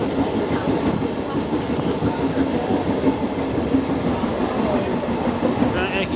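An Indian railway train runs at midday with its doors left open, giving a steady, loud, continuous rumble and rattle of wheels on track heard from inside the carriage.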